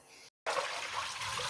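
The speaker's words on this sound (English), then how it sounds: "Make sure the water runs clear." Tap water runs steadily in a continuous close splashing rush as soaked grains are rinsed, after a brief cut of silence near the start, with no talk.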